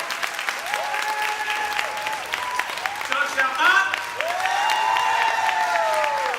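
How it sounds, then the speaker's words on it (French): A convention audience at Paris Manga applauds a panel of US actors with steady, warm clapping that swells slightly near the end, while a presenter speaks over it. "Je vais vous demander de les applaudir tous les trois bien chaleureusement."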